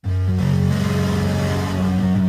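A Minecraft game jump sound run through a distortion plugin: a distorted, buzzing synth tone, low and harmonically rich, sustained steadily for a couple of seconds with a brief pitch shift near the start.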